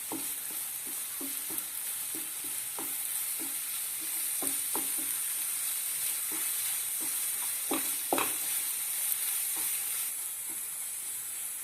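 Curry leaves sizzle in a hot frying pan as they are stirred, with a steady crackling fry broken by repeated spatula scrapes and taps, close by with no voices.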